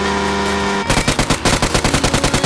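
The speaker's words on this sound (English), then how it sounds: "He's actually shooting at him." Rapid machine-gun fire in the video game Death Race, a loud, close burst of evenly spaced shots that starts after a droning engine-like tone and continues steadily to the end.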